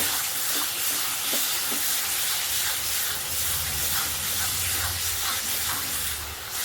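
Taro and spice paste sizzling hard in a pan while being sautéed for a taro and katla fish curry, a dense, loud, continuous hiss with faint low rumbling underneath and no pauses.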